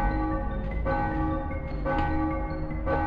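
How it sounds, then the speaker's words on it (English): Church bells toll in the PS1 video game Gex: Enter the Gecko. Deep, ringing strikes sound about once a second, each swelling loudly over a sustained, humming resonance. "The bells toll for thee."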